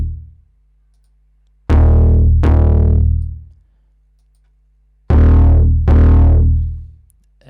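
Two pairs of heavy 808 bass notes, distorted through a distortion effect instead of overdrive, with gritty harmonics, each note sustaining then decaying, separated by a silent gap.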